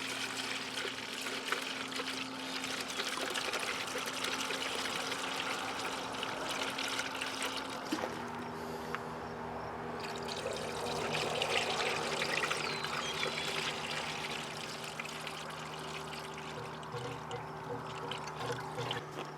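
Coolant pouring into a larger Nissan Titan radiator, a steady close trickle and gurgle of liquid that goes on throughout. The tone shifts partway as air starts escaping, and there is no talking.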